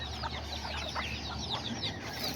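Newly hatched chicks and Azteca and Serama chickens clucking and peeping continuously nearby, with overlapping high chirps over a faint steady hum.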